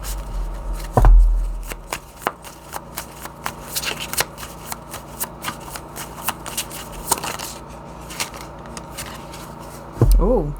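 Tarot cards being turned over and handled for a reading, a close run of crisp flicks and slaps at an uneven pace, with one louder thump near the start and another near the end.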